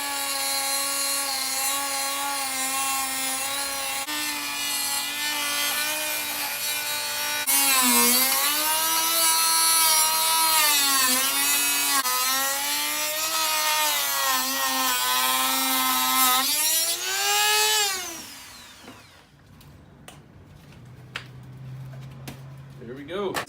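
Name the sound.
cutting out plastic panel opening in a Jeep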